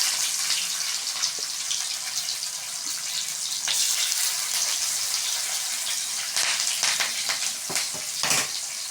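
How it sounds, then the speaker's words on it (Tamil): Onions sautéing in a pan for rava upma after cashews go in, giving a steady, fairly loud frying hiss with occasional sharper crackles and stirring scrapes throughout. "போட்டுட்டு நல்லா வெங்காயத்தை வதக்கிக்கலாம்."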